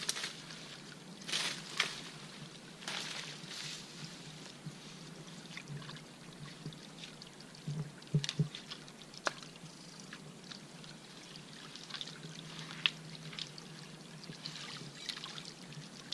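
Water trickling and flowing through a small stream at a mink and otter trap set, a steady faint babble with occasional splashes and handling noises, close and quiet with no talk.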